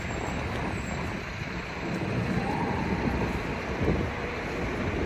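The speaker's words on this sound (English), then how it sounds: "It's getting windy. Wind is picking up." Steady broadband wind roar blows throughout on a New York City street, a continuous rushing noise with slight gusts swelling near the end.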